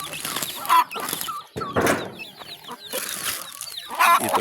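Chicks and hens around native chickens on a farm, soft scattered clucks and thin peeping calls close by, with quiet gaps between bursts.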